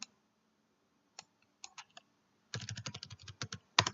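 Computer mouse clicks while working in Photoshop, a few sparse isolated clicks followed by a denser burst of sharp taps near the end, close and dry with no talk.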